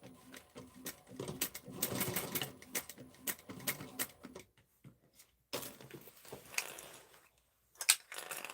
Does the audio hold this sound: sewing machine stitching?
yes